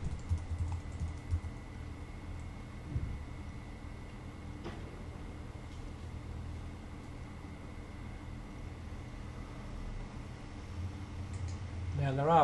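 Fast computer-keyboard typing while writing C# client and server networking code, a steady patter of light key clicks at a faint, close level over low background hum, with no talking.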